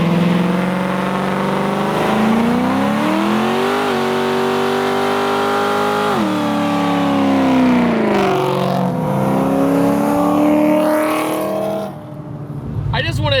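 Ford Mustang fitted with an aftermarket exhaust revs with a deep, throaty engine note, rising and falling in pitch over several seconds, loud and close, with a voice talking over it.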